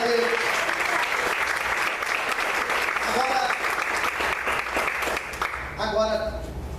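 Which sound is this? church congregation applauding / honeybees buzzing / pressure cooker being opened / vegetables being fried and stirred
church congregation applauding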